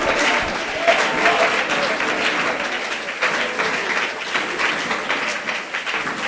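A church congregation applauds during a worship service, dense sustained clapping filling the whole stretch with crowd noise and voices mixed in, loud and close throughout.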